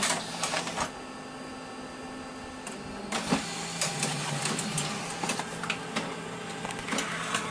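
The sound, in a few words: printer printing a cassette cover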